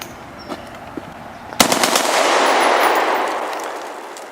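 An ARAK-21 rifle fires at close range: a few sharp shots, then a loud crack followed by a long rolling echo that slowly fades.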